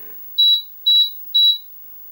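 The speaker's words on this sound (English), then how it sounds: "Those 3 beeps, I looked those up, and that means it's a boot disk drive error" An Amstrad PCW 9512 computer gives three identical high electronic beeps at boot, evenly spaced and loud, signalling a boot disk drive error, with near silence between and after them.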